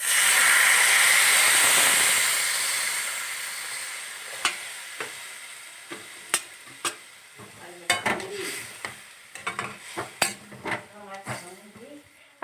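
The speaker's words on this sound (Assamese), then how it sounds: "এতিয়া ইয়াতে গৰম পানী ঢালি দিছোঁ।" Hot water hits a frying pan of drumstick (sajna) curry with mustard, bursting into a loud, hissing sizzle of steam that fades over a few seconds, followed by scattered clinks of utensils and stirring against the pan.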